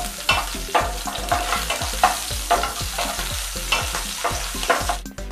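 Green chillies frying in a pan for tomato chutney give a close, steady sizzle, broken by repeated rhythmic scraping and stirring strokes.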